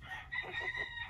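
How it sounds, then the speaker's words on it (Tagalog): A Rhode Island Red rooster crows in a drawn-out, tonal call lasting about a second, clear and fairly close. "yung Rhode Island Red ko po na rooster"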